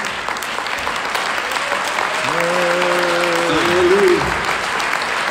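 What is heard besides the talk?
congregation applauding in church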